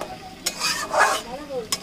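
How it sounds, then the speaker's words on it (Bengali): Potato and cucumber curry is stirred in a pan: a couple of soft, close scraping strokes and a brief clink over a faint background sizzle. "আমরা ভালো করে নাড়াচাড়া করে নেবো তরকারিটি"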